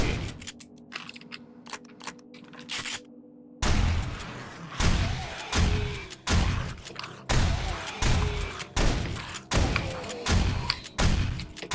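Gunfire from weapons in the video game 7 Days to Die during weapon damage testing: a quieter stretch of clicks gives way to a run of repeated loud, sharp shots at a steady pace.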